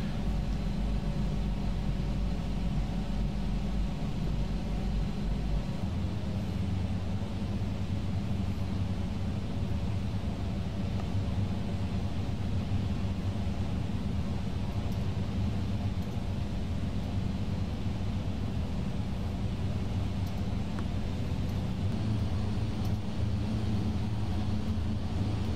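A Beech 1900D turboprop descends at night over Alaska in Flight Simulator X, giving a steady, even engine drone and cabin rumble that stays unbroken and constant with no talk.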